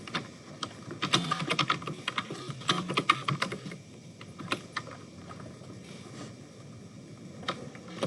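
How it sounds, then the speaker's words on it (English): Rapid clatter of fingers typing on a computer keyboard, bursts of keystrokes with short pauses, fairly close and moderately loud with no talking. "And if I start typing, it'll bring up Hondo High School."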